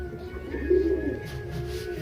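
Pigeons coo on a rooftop in the morning, a soft low throaty burble rising briefly and fading against a steady background hum, faint and moderately distant with no voices.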